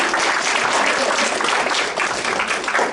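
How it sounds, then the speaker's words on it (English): A Halloween show audience gives a dense, sustained round of clapping, loud and continuous for the whole stretch with no talk over it. "Give him one more round of applause."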